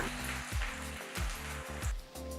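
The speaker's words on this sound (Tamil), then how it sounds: "ஒரு கடாயில் தேவையான அளவு எண்ணெய் ஊற்றுங்க நீளமாக நறுக்கின வெங்காயத்தை போடுங்க" Oil sizzling steadily as sliced onions fry in a kadai, a dense crackling hiss that continues throughout with a few low clunks.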